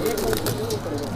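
Low rolling coos from a group of Madrasi pigeons fill the space continuously, with a voice faintly present beneath them.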